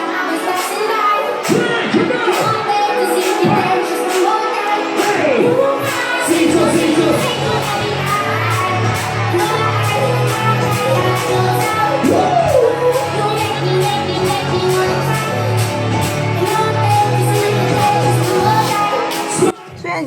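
A DJ shouting over a packed Mega Disco crowd, loud overlapping yells and cheers on top of steady booming dance music throughout.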